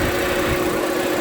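A 2010 Volkswagen Jetta engine idles up close with a steady, even hum and light mechanical vibration through a brief stretch, with no talking.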